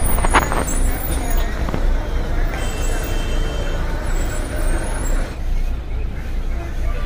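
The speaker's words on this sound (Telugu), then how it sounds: "ఇక్కడ వెళ్తున్న bus Bodhan to Nellore sleeper bus" An APSRTC Bodhan to Nellore sleeper bus rolls through the Ongole bus stand, its engine rumbling steadily amid surrounding traffic with a sharp air-brake hiss near the start.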